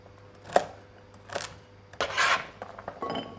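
Vegetables are chopped into small chunks for homemade beef stock, giving a few distinct knife strikes and scraping rasps on a board, close and clear with no talking.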